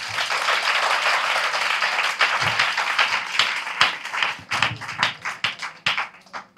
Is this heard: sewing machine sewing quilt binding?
no